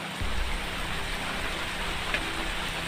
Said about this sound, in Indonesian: Ini pun alhamdulillah cuacanya diguyur hujan